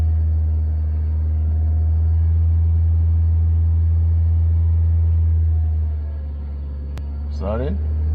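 A manual car's engine idles as a steady low rumble during a driving lesson three-point turn, a drone that dips briefly near the end before a short squeaky noise.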